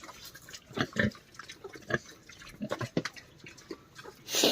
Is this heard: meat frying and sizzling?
no